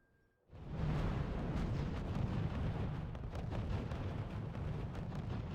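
Artillery barrage in the WWII strategy game RUSE on the Nuclear Winter map: a sudden heavy roar of shelling erupts after a quiet moment, then rumbles on loud and dense with overlapping booms.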